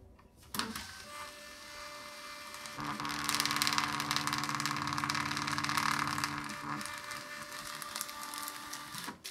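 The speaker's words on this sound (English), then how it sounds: "you just go into printer settings and let's put it on something like 6 and let's print now." A Brother PocketJet thermal printer runs a tattoo stencil through, a steady close mechanical whir with sustained motor tones that rise in the middle of the run and then ease off, with no voices.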